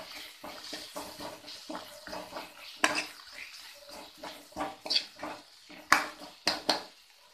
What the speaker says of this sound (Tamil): இதோட நான் 3 சிகப்பு மிளகாயும் சேர்த்து வதக்கிக்கிறேங்க.